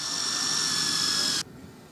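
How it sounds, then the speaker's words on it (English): A screw gun drives tech screws into the bows of a 16-foot Dakota greenhouse. One steady, high motor whine is heard up close for over a second, then it cuts off abruptly into quiet. "at every single swedge point, we're putting in a total of 2 of the tech screws that are provided."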